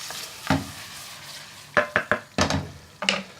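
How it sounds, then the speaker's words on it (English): A spoon stirs chicken korma sauce in a hot pan just after lemon juice goes in, giving a soft sizzle and a quick run of distinct scraping strokes, close up with no voices. "Let's add the lemon juice. Give it a little bit of a stir."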